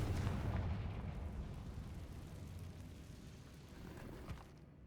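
A Confringo blast in Hogwarts Legacy lands as a heavy, rumbling boom at the start, its low roar slowly decaying over several seconds with a small pop near the end.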